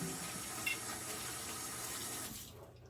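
Tap water runs steadily over a Santa ornament's head during rinsing, a close, continuous splashing stream that cuts off and fades to quiet near the end.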